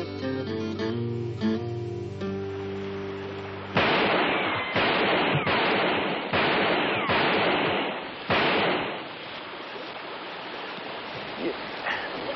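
Gunshots ring out in a 1974 Western TV movie, a series of sharp, loud reports following one another at irregular intervals, each with a ringing echo, after a brief stretch of musical score.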